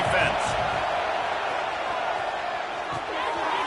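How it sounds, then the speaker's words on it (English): A packed football stadium crowd at a Gators game roars continuously at full volume, a dense, sustained wall of cheering and noise with no letup from start to finish. "Listen to this crowd just shaking the girders of this place"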